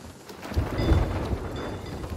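Rain with a low rolling thunder rumble in the game Sea of Thieves, a short, fairly loud burst of storm ambience with a heavy low swell in the middle.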